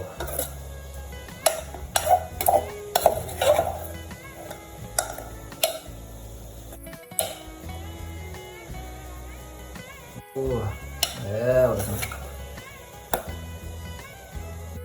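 Thai E-San beef larb being served onto a plate, with a series of close clinks and scrapes of a utensil against the dish, irregular taps and clatters that come and go over a quiet background.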